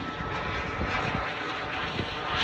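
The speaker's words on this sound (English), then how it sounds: "it's an airplane flying right above us" An airplane passes directly overhead, its engine roar a steady, broad rumble that stays loud and close throughout, with no voices over it.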